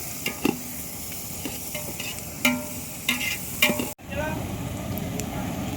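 Onions roasting in a pan for chicken biryani, a steady sizzle throughout, broken by several clattering stirs and scrapes of a spoon against the pan.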